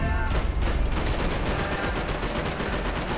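Rapid gunfire from the video game Max Payne 3, a loud, dense fusillade of overlapping shots and bursts that continues without a break and fills the whole stretch, with no talking over it.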